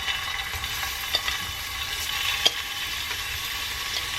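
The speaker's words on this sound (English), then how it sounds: "Alright, so the oil is ready, so I'm going to go ahead and start adding my shrimp" Shrimp hit hot frying oil for ramen, giving a loud, continuous hiss and sizzle close by, broken by a few sharp little pops and spatters.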